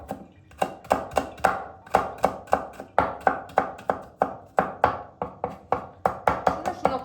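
Two garlic cloves chopped with a knife on a cutting board in a home kitchen, a steady run of about thirty sharp, close taps in quick rhythm with no talking.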